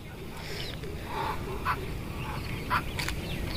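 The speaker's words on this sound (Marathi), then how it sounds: "पक्षी सगळे सगळे किती छान आवाज येते पण पक्ष्यांचा" Birds call outdoors during an early-morning walk: a few short, faint chirps stand out at intervals over a steady hiss of background noise, with no talk.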